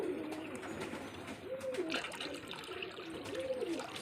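Pigeons cooing near a water tap, two low rolling coos spaced a couple of seconds apart, close and moderately loud over a faint trickle and background noise, no talking.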